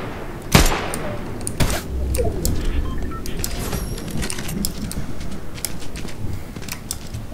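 Gunfire in the Fortnite video game comes as a loud opening burst, then dense rapid volleys of shots and sharp cracks going on steadily at mid distance.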